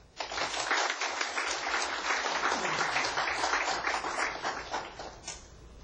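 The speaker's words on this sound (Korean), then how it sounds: "먼저 생방송 토론에 나와주신 이해찬 대표께 큰 박수 부탁드립니다." A studio audience at a live televised broadcast journalists' club debate applauds a guest party leader: dense, sustained clapping that swells quickly, holds for several seconds, then tapers off.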